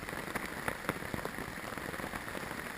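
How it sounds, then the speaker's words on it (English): Steady rain pattering on a campsite at night, a dense continuous hiss with scattered sharper drops landing close by, no voices. "It's raining pretty good."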